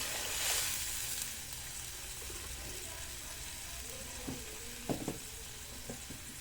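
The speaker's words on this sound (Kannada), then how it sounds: "ಈಗ ಸ್ವಲ್ಪ ನೀರಾಗಿ ಮಿಕ್ಸ್ ಮಾಡೋಣ ರೀ ಫ್ರೆಂಡ್ಸ್ ರೀ." Spicy green chili curry with water added, stirred in a pot over a gentle sizzle, with a few sharp spoon knocks and scrapes near the end, close and quiet with no talk.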